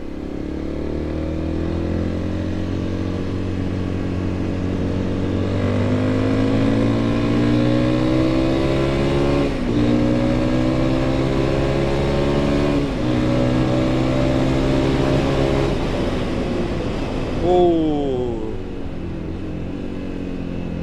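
A CFMOTO motorcycle, a 750 SR-S or 250 Lite, accelerates on the road, its engine note climbing steadily through repeated gear pulls, loud and close throughout with a brief shift near the end.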